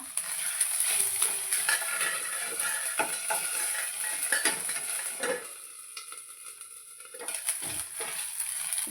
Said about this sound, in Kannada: ಇದು ಚಂದ ಫ್ರೈ ಆಗ್ಯದ ಹಸಿ ವಾಸನೆ ತನಕ ಈಗ ಚಂದ ಈ ಥರ ಫ್ರೈ ಮಾಡ್ಕೊಂಡು